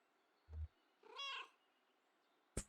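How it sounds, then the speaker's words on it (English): A cat in the video game Kentucky Route Zero lets out one friendly meow, a clear rising-and-falling call, preceded by a low soft thump and followed by a sharp click, close and alone. "Friendly meow."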